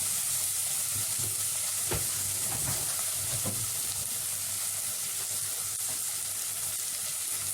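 Peas frying in a pan while being stirred, a steady close sizzle and hiss with a few soft scraping knocks from the stirring utensil.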